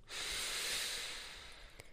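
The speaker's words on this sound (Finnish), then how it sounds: "Hengitä nenän kautta keuhkosi täyteen." A single deep breath drawn in through the nose, a long, close airy inhalation lasting over a second that fades toward the end, followed by a slight click.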